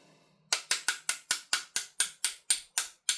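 After a brief faint hum, about a dozen sharp metallic taps drive a pin into the housing of a CTM FUKU-2 AAP-01 airsoft pistol in an even rhythm, each ringing briefly, close and fairly loud.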